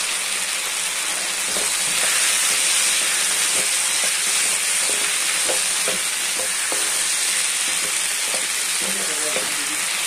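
Ginger garlic paste fries for a capsicum curry, giving a steady, bright sizzle and hiss with small crackles and occasional stirring clicks, close and continuous throughout.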